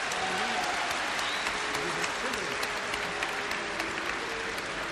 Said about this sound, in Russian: Пожалуйста, пожалуйста, не хлопайте.